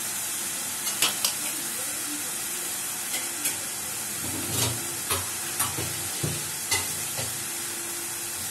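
Garlic and ginger fry in a pan with browned onions, giving a loud, constant hissing sizzle close by, broken by repeated light clicks of a spoon stirring against the metal.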